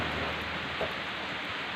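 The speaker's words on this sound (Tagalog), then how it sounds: "Grabe ang ulan guys." Heavy afternoon rain falls in a steady, loud, broadband wash with no voices, continuous throughout.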